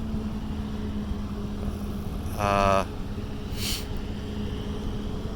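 A bass boat's engine whines briefly as it speeds past at some distance, rising out of steady outdoor background noise and fading within a second or so.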